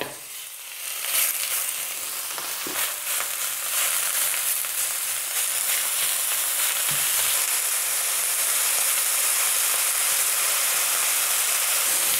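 Mixed minced meat sizzles and crackles loudly in a hot pan with oil, a constant frying hiss with occasional stirring scrapes, no voices.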